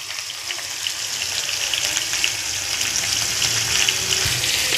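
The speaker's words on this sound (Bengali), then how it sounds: "এবার কড়াইতে তেল দিয়ে নিয়েছি, পটল আর আলুগুলো হালকা করে ভেজে নেব" Pointed gourd and potato pieces, dusted with turmeric and salt, frying in oil in a wok, giving a steady, close sizzle and crackle that holds even throughout with no talking.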